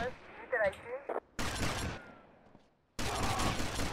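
Gunfire aimed at a group of people in the Vice City game, with bursts of rapid shots breaking in after a short quiet stretch, loud and close, alongside game voices.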